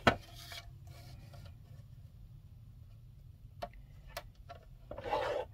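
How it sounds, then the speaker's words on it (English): A paper trimmer cuts a monoprint down into a card, making a short rasping slice up close, then a couple of faint ticks and another brief cutting sweep in a quiet room. "Now we're going to cut this down. We're going to use our trimmer again."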